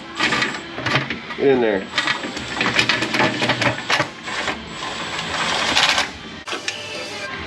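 Power tool with a wobble extension driving rear bolts on a 2000 Ford F150 4X4 5.4, heard as repeated short bursts of whirring and rattling in a workshop, interleaved with someone talking.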